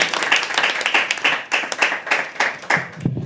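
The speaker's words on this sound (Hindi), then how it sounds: "keep clapping" Audience at a live poetry open mic clapping in a rhythmic, fairly close burst of handclaps, the beat slightly uneven and tapering near the end, with faint voices at the close.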